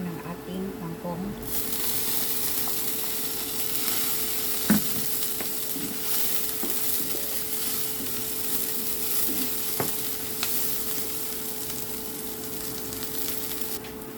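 Kangkong (water spinach) stalks hitting a hot pan of oil left from frying tofu, bursting into a loud, steady close sizzle with occasional spatula scrapes and knocks as they are stirred.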